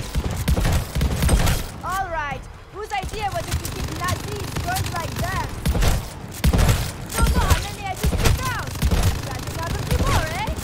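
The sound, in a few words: minigun barrage firing in video game Call of Duty Vanguard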